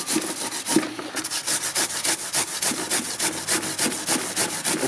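A hand-held power tool grinding into material, a loud rhythmic pulsing rasp with repeated strokes close to the microphone, no talking.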